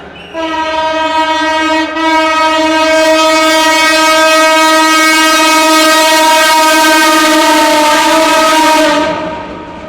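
A train passes near a religious gathering on an open field, sounding a long, very loud, steady horn blast that lasts nearly ten seconds over a low rumble of the moving cars.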